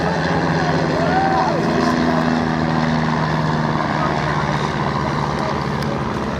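Propeller trainers, an RAF Bulldog with a 200 horsepower Lycoming IO-360 and a Chipmunk, fly past at an air display, giving a steady, loud engine drone throughout with a faint voice underneath.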